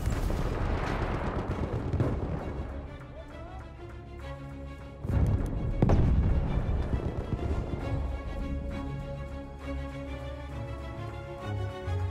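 Bombs explode in a video game battle, heavy booming blasts with a loud crash mid-way over a continuous rumbling, musical game soundscape.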